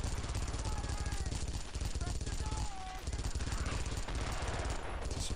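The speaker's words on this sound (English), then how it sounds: "And of course there's still the machine guns." Rapid machine gun fire rattles in dense bursts through a World War II battle in Brothers in Arms: Earned in Blood, loud and continuous, with a faint voice underneath.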